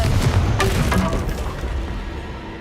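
A Confringo spell explosion in Hogwarts Legacy: a loud, rumbling blast with crackling debris at the start that slowly fades into a low, steady roar.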